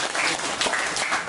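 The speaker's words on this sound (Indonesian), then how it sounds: "Kita beri tepuk tangan juara dunia." Audience applause at a sales presentation for a bio-energy pendant, a dense, steady crowd clapping that runs loud and unbroken through the whole moment.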